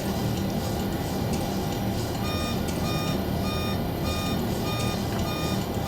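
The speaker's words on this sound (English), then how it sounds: "That's got to be the cabin altitude warning." A Boeing 727 freighter's cabin altitude warning sounds in the cockpit as a steady, repeating intermittent tone, set against loud continuous engine and airflow noise.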